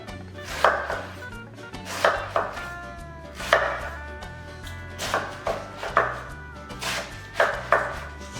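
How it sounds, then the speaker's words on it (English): A knife chops cabbage into strips on a board, giving close, sharp thuds in a steady rhythm of about one per second, with no talk. "3/4 inch strips-ish. You can cut this any way you want."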